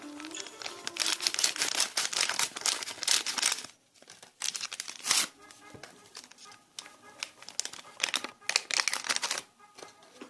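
Two paper packets of baking powder are handled and torn open for an orange cake batter, making close, bursty crinkling and ripping sounds in irregular clusters separated by brief pauses.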